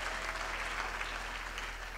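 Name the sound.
audience applause at graduation ceremony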